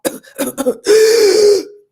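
A voice imitates a whooping cough: a quick series of harsh coughs, then a long, loud, high-pitched whooping inhale, close and alone.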